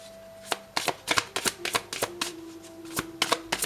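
Tarot cards being shuffled in a series of quick, crisp riffling bursts, close and clear, with brief pauses between and no talking.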